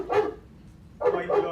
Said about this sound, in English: So hearing the dog bark,